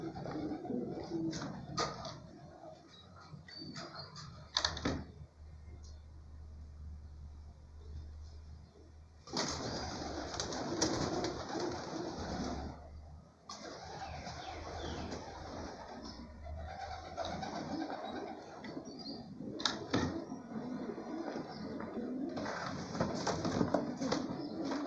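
Pigeons cooing softly in a loft while being packed for a release in Brumadinho, low murmuring coos mixed with scraping, shuffling and sliding handling noises, some louder bursts of activity.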